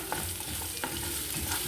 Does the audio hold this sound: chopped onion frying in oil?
yes